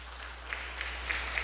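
A church congregation applauding: steady, fairly soft clapping that spreads across the whole moment, with a few sharper claps standing out over a constant low hum.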